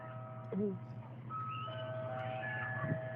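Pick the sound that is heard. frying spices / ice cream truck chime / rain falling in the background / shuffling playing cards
ice cream truck chime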